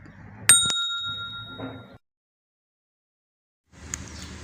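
Bright bicycle-bell ring used as a subscribe reminder effect, two quick sharp dings near the start with a ringing tail, followed by silence and a brief burst of noise at the end.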